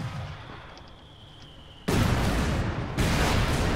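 Heavy mortar and artillery fire in Company of Heroes 2 during an assault on strong German defenses: a quieter stretch of distant rumble, then two sudden loud bursts of explosive blasts.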